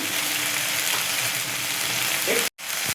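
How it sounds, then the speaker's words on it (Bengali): Spice paste with onion, ginger and garlic frying steadily in a pan for a Bengali prawn malai curry, a continuous close sizzle broken by a brief gap near the end. "দিয়ে মশলাটা কষাতে থাকলাম"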